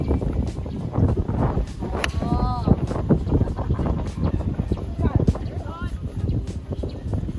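Wind on a golf course at a par 3 hole, gusting steadily against the microphone at close range while people talk and chirpy bird calls rise above it.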